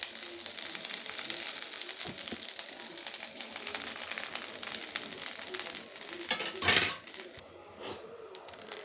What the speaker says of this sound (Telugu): మునగాకు కూడా చక్కగా ఫ్రై చేసుకోవాలండి